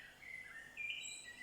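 Birds chirping and singing outdoors in nature, with a few thin, high calls that come and go over a soft, steady backdrop, moderately faint and with no talking.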